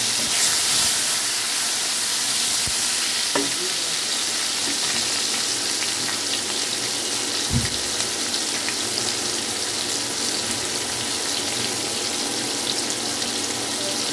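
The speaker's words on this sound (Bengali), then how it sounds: "এখন আমি এর মধ্যে অ্যাড করে দেব টমেটো কুচি।" Chopped tomatoes fry in hot spiced oil in a pan for fish and cauliflower curry, giving a steady loud hiss that carries on throughout, with a few faint clinks and no talking.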